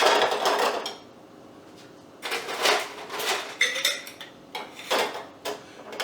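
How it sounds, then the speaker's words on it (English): Ice cubes clatter into a cup while a ginger beer mule cocktail is being made, several bursts of sharp clinking and rattling with short pauses between, close and fairly loud with no talk. "I'm going to fill the cup up with ice."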